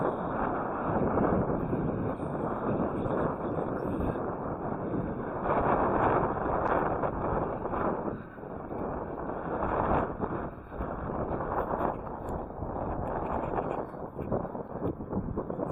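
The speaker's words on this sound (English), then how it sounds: "this part right here is closer to the lake, right? So it's windy again, unfortunately." Steady gusting wind off the lake at a waterfront park in Toronto buffets the microphone, a continuous broad rushing roar with slight surges, close and fairly loud throughout, no voices.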